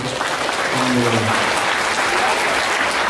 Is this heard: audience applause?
yes